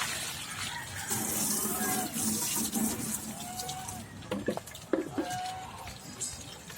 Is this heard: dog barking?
no